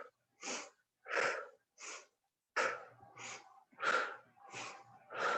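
Forceful bursts of breath pushed out through one nostril during a breathing-to-balance exercise, about eight sharp, hissy exhalations in a steady rhythm, close and fairly loud with no talk.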